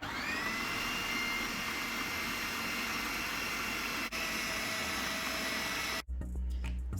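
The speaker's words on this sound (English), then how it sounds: "You'll start hearing a different sound running in your food processor." A food processor runs loud and steady as cream churns toward butter, a continuous whirring roar with a brief dip near four seconds before cutting off in the final second.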